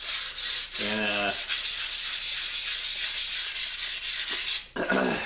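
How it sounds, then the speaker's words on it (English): Continuous close scratchy rubbing of 220-grit sandpaper worked by hand over a rusty Hultafors axe head, a steady back-and-forth rasp with a brief pause near the end. "So now I got 220 sandpaper, and I'll just kind of caress this for a while"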